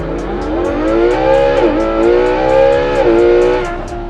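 Ferrari Monza engine revving close and loud, a sustained rising and falling roar with a few pitch dips as the throttle is blipped, running alone without talk.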